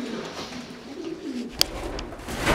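Pigeons in a loft coo softly in a steady low murmur throughout, with a brief sharp click partway and a rise in broadband noise at the very end.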